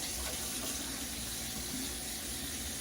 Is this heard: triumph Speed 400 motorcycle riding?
no